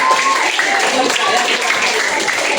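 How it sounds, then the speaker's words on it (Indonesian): Applause for a student presenting group in a classroom, a steady wash of many hands clapping at close range throughout the short stretch. "tepuk tangan untuk kelompok"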